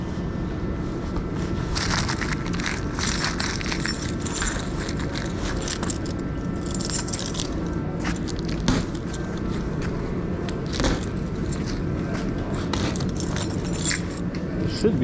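A blade cuts open a delivery package of car body parts, brackets and weather strip for a Gen 2 Redeye Dodge Charger wide-body build, heard as scraping and crinkling over steady background noise with brief knocks.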